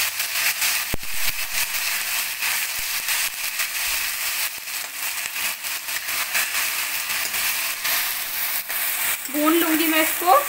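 Tomato puree fries in a pan for paneer shimla mirch, a steady, close crackling sizzle with small spits and pops that continues throughout, plus a brief stirring scrape near the end.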